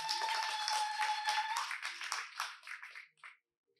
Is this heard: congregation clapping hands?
yes